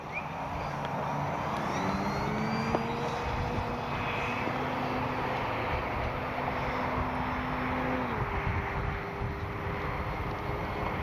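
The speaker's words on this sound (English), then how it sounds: "She don't need much runway to take off." An FMS 1400mm Pitts V2 radio-controlled biplane's engine whines steadily and loudly as it takes off from a short runway, with its pitch shifting as it speeds up and climbs, under wind noise and no talk.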